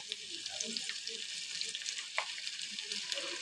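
A gentle, steady sizzle of onions frying lightly in a pan for egg chilli, with soft bubbling crackle throughout. The sound is fairly quiet, and there is no talking.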